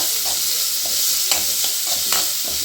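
Chopped onions sizzle loudly in hot coconut oil, a dense close-up hiss with rhythmic scraping of a spoon stirring them through the pan.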